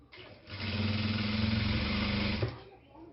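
Sewing machine running steadily as it stitches straight lines across an old cloth doormat, a close, continuous motor whir with a rapid needle rhythm lasting about two seconds before stopping.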